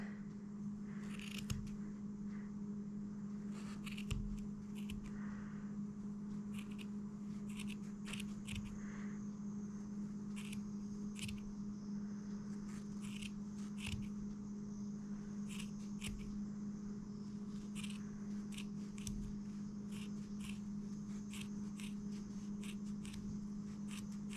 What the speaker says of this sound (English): we're going to cut all of the loops apart, just like this